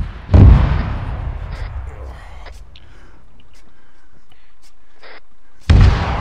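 Artillery shelling in the Arma video game lands around a city: a loud booming impact at the start, a long fading rumble, then a second heavy blast near the end, with faint scattered pops in between.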